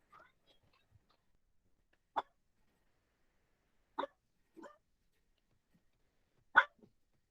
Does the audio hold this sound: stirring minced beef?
no